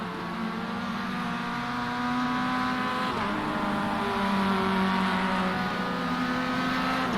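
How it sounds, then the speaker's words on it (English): Orange Mazda race cars battling on a circuit, engines droning loudly and shifting pitch as they rise and fall through the gears, several cars overlapping close by in continuous racing noise. "That's David Butcher just ahead of him in the other orange Mazda."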